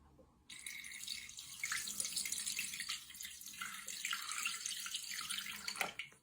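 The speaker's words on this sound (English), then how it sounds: "add 220 grams water, room temperature" Room-temperature water pours steadily into a Thermomix TM6 mixing bowl for pizza dough, a continuous close splashing stream running for about five and a half seconds after a quiet start.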